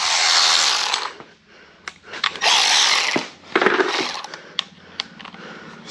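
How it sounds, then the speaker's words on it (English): A Milwaukee power ratchet working on a bolt, with several whirring bursts of the motor mixed with clicking and mechanical rattles, close and fairly loud, with no voices. "I'm gonna grab we have one of those Milwaukee ratchets. I'm gonna try it here, see what it'll do."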